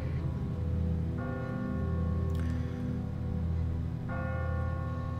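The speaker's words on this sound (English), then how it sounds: "he's the one that rang the damn bell" A bell rings in The Walking Dead video game, sustained harmonic tolls at moderate level, with a second strike a few seconds after the first.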